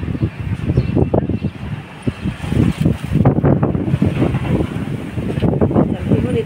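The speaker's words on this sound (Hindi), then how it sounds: "हवा से तेज हवा चल रही है।" Strong storm wind gusts past the microphone in loud, continuous buffeting rumbles, with someone talking over the roar.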